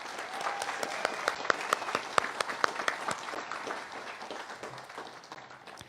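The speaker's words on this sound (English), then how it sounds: "I'd like you to give a round of applause to our incredible faculty" Crowd applause for the faculty at a college commencement ceremony in a large hall; soft, rolling clapping with a few sharp, distinct nearby claps standing out, gradually thinning and fading toward the end.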